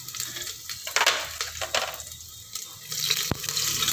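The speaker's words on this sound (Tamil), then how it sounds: "இப்போ ஜீரகம் நல்லா பொரிஞ்சு வருது" Cumin seeds and crushed garlic cloves frying in hot oil in a pan, a close, steady crackle and sizzle with stirring scrapes and a sharp click near the end, no talking.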